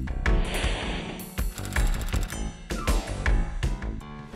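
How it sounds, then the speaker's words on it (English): Clanking and ratcheting of a Messer MetalMaster Plus shuttle table's pallet lifting mechanism, driven by four 10-ton ball screw jacks, with repeated metallic knocks and grinding bursts at an uneven rhythm, loud and close. "The pallet tray lifting mechanism uses four 10-ton ball screw jacks to provide a high lift capacity"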